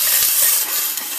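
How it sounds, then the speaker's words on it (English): Water, about a cup or half a cup, hits a hot pot of Tibetan pan-fried momo bread and sets off a loud, bright steaming hiss that runs continuously and eases slightly toward the end. "I'm going to put the water in the pot"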